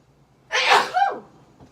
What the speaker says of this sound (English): gotta sneeze. Maybe got a little pepper in my nose.